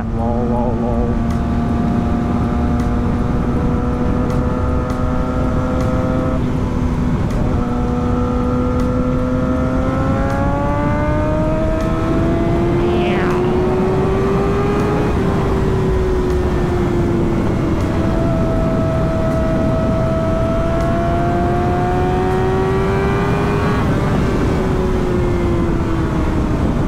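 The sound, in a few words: motorbike engine revving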